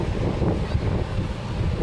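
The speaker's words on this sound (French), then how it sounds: "Il y a des bonnes grosses vagues là." Big ocean waves at a Gold Coast surf beach roll in as a steady, loud broadband wash, with heavy wind buffeting the microphone throughout.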